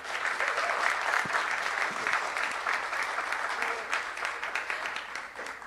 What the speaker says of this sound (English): how about we put our hands together and show her some love